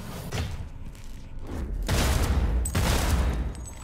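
Gunfire in the video game Cyberpunk 2077: sporadic pops, then two heavy bursts of rapid booming shots that rise sharply and ring on. The shots are loud and close, with no talking.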